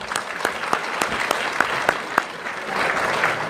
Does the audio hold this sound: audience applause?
yes